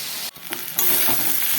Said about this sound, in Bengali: একটু ভালো করে কষে নেবো আর কি কষালে যে আঁচড়া আশা থাকে সেটা চলে যাবে